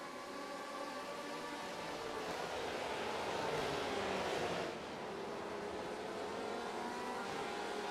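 Porsche race car in a racing sim at Silverstone, a continuous engine roar that swells and then eases as it passes, broad and fairly distant, with no voices.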